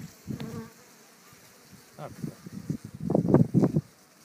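Honey bees buzz inside an open hive during varroa mite treatment, a soft close hum that swells in bursts, rising loudest near the end, with handling noises mixed in.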